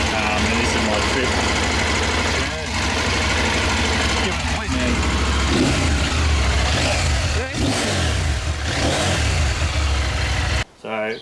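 A CFMOTO 800 MT Explore motorcycle engine runs close by with a loud, steady mid-pitched throb that stays busy throughout, while a rider talks over it, and it cuts out abruptly near the end.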